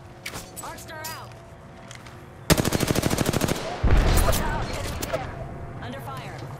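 Automatic weapon fires a rapid, loud burst in Apex Legends, followed by a heavy boom, with game voices speaking before and after the shots.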